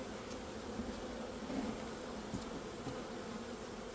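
Honeybees in a late-season nucleus colony being checked before winter, giving a soft, continuous buzzing hum at close range with no talk over it.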